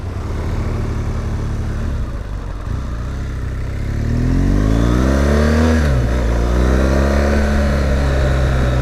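A 2017 BMW R1200GS Rallye motorcycle accelerating on a road, the engine note climbing in pitch through a rising rev, dipping briefly at a gear change and then pulling up again, loud and close with wind rush and no talk.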